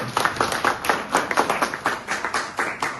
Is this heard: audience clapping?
yes